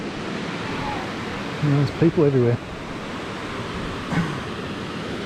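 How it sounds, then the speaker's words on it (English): Small waterfall pouring into a shallow rocky pool, a steady broadband rush of falling water running throughout, with someone speaking briefly over it midway. "little waterfall going into the pool"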